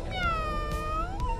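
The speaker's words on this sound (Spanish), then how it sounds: "¿Solamente es un lindo gatito?" A cat gives a drawn-out meow that rises and falls in pitch, close and clear, heard alone with no one speaking.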